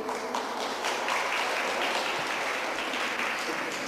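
Steady applause from an audience at a 1997 rhythmic gymnastics awards ceremony, a dense wash of many hands clapping continuously at even loudness throughout, with no voices above it.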